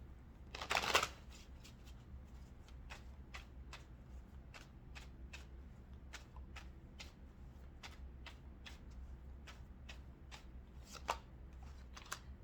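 Tarot cards are shuffled quietly in a calm room. A brief riffling burst at the start and another near the end bracket a regular series of soft, crisp card taps and flicks.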